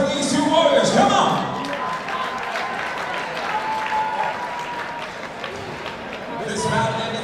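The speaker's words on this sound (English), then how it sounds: "round of applause for these two warriors" A crowd applauds steadily for several seconds at a combat sports event. The clapping swells at the start, holds at a dense level, then rises again near the end under a loud announcer's voice.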